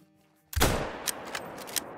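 A single sharp rifle shot fired in the hunting game theHunter: Call of the Wild, a loud abrupt crack followed by a decaying rumble and a few faint later clicks.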